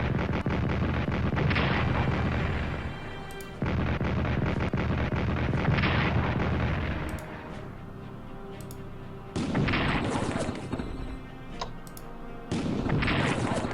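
Bombing in the strategy game Strategic Command during a 1939 European war campaign, with loud rumbling explosions in several long blasts separated by brief quieter gaps and sharp clicks, and no speech.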